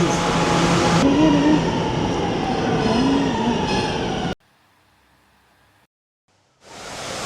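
A New York City subway train rumbles and screeches in a station, wheels squealing over a loud mechanical roar, then a sudden drop to near silence before the noise returns.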